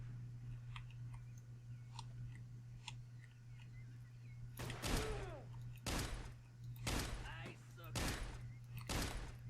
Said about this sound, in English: But they seem to just shoot at stuff trying to get to me.